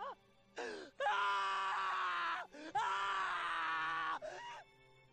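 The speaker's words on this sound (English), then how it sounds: "Okabe knelt down, wailing and shrieking" A male character in the Steins;Gate visual novel wails and shrieks in anguish, several long, strained voiced cries broken by short gasping pauses, close and intense.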